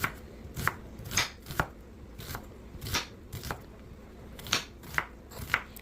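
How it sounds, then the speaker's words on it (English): A knife chops an onion on a board in irregular crisp strokes, about a dozen sharp cuts with short pauses between them, close and moderately loud. "So I started by chopping up my onion."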